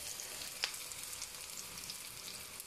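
Onions frying in oil in a pan, giving a steady, fairly quiet sizzle with one brief sharper crackle near the start and no talking.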